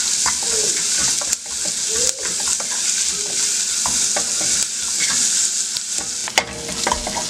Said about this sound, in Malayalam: അപ്പോൾ നമുക്ക് നല്ലപോലെ വഴറ്റിയെടുക്കാം